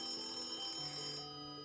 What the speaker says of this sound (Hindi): मेरे बेडरूम से टेलीफोन की आवाज़ आ रही है।